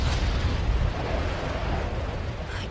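A massive explosion destroying a castle in an anime, heard as a sustained deep rumbling roar that stays loud and dense for the whole stretch without distinct separate blasts.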